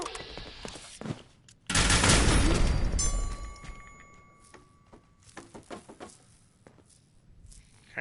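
Gunfire in the video game Fallout 76, with a shotgun among the weapons: a loud burst of rapid shots and booms lasting a couple of seconds, followed by scattered sharp shots and clicks.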